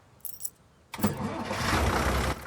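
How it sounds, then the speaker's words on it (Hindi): A car engine cranks and catches after a brief jingle of keys, then settles into a steady, fairly loud running drone close by, with no talk over it. "गाड़ी स्टार्ट कर लो अब।"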